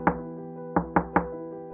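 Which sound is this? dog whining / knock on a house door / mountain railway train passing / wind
knock on a house door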